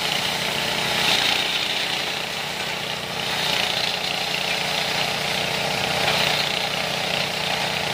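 A mini rice threshing machine with an upgraded engine pulley runs continuously while threshing long, tough upland rice on a hillside, giving a steady droning engine hum with a bright whirring fan noise, moderately loud and unbroken, with no talking.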